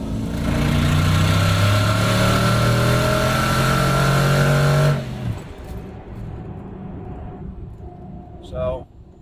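A twin-turbo truck engine with bigger heads and cam roars at full throttle, loud and steady with rising harmonic tones, then abruptly drops off to a lower idle rumble as a voice speaks briefly.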